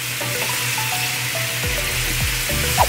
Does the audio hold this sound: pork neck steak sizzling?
yes